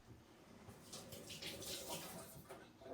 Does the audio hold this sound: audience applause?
no